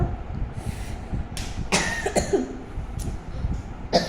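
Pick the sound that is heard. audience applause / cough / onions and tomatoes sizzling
cough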